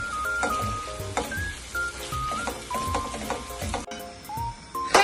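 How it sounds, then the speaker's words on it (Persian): Mushrooms sizzle in a hot pan for pasta alfredo, a steady frying hiss with stirring clatter, while tonal beeps and music-like notes run over the top. "بهش قارچم رو اضافه میکنم"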